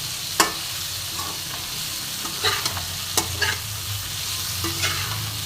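Vegetables frying in a pan with ground spices are stirred with a utensil, giving scattered scraping knocks and clinks over a low steady sizzle, with no talk.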